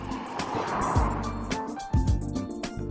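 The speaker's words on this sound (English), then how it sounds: "the sound coming from those exhausts is specifically engineered to suit the mood every Aston Martin very uniquely creates" Aston Martin V8 Vantage exhaust note: short, close bursts of deep engine rumble with quick revving rises, moderately loud and with no talking.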